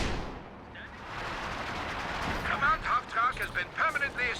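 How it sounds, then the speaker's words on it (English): Artillery guns, including pack howitzers, trade shells at long range in a competitive real-time strategy game match, giving a run of muffled booms and bursts under steady commentator speech. "These guns trading shells at long range."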